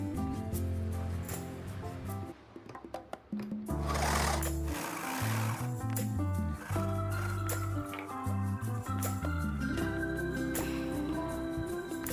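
A sewing machine stitches a joint in lehenga fabric, its motor whirring steadily and close up, with the pitch shifting as the speed changes, and brief pauses but no talk.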